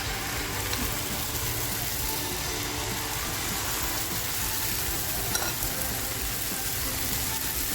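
Continuous close sizzling of jowar batter cooking on a hot oiled griddle, a steady hiss with faint background noise.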